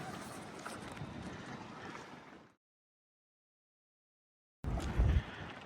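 Wind rushing over the microphone aboard a Catalina 30 sailboat, a steady buffeting roar that cuts out to silence, then returns with heavier gusts.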